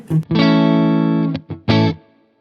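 Distorted electric guitar chords play through an Orange amp with a Tone King Imperial preamp, its reverb set moderately around 8. A long sustained chord rings out, then short choppy stabs follow, loud and close, with no talking.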